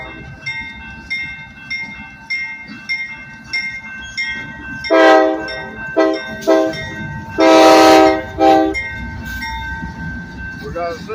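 A switching locomotive pulls ahead through a rail yard, its engine droning steadily under repeated horn blasts, with longer loud horn sounds near the middle, heard up close.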